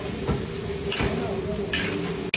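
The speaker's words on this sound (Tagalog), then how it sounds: "Piri-pirito mga idol yung bituka." Pork intestines frying in their own rendered fat, a steady close sizzle and crackle with a few sharper pops and a faint voice underneath.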